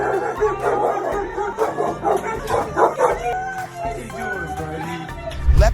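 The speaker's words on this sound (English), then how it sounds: "we see a soldier returning home after 6 months of service to be greeted by his dog with all its heart" A dog excitedly greets a soldier returning home after six months of service, with repeated barks and yips over steady background music and some voice.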